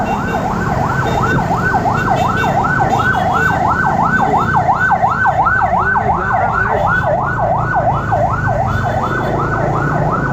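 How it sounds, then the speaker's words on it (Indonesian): An emergency siren wails in a fast, steady up-and-down cycle throughout, loud and close, over a low rumble of road traffic. "Wow, ada ambulan."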